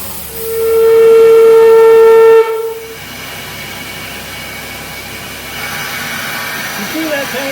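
A 1907 Lombard steam log hauler running on compressed air sounds a loud, steady whistle tone for about two seconds, then a low hiss and rumble continue as it backs up.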